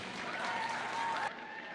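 Audience applause at a county 4-H beef cattle show, a steady spread of clapping in an arena under a speaking voice and a faint tone, ending abruptly.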